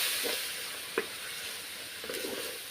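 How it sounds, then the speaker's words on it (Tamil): Ginger garlic paste is sautéed in a pan for a cauliflower gravy, heard as a soft, even sizzle with a few light taps and stirs, fairly quiet and without talking. "இஞ்சி பூண்டு பேஸ்ட்டோட பச்சை வாசனை போகிற அளவுக்கு நம்ம வந்து வதக்கி விட்டுடலாம்"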